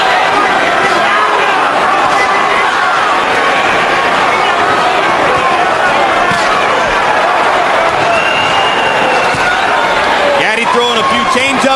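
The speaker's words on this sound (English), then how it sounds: "Crowd gets back into it." A boxing arena crowd roars steadily throughout the Arturo Gatti versus Micky Ward fight, a loud dense wall of cheering and shouting with a commentator talking over it.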